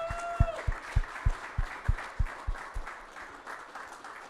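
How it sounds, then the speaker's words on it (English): Applause from a tech meetup audience after a panel of speakers, with a steady rhythmic clapping beat, a short whistle or cheer at the start, and the clapping gradually fading. "Let's give an amazing round of applause for our awesome speakers."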